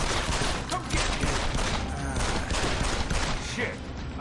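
Dense, continuous gunfire rattles through a firefight in Deus Ex: Human Revolution, loud and near, with a voice breaking in over the shooting.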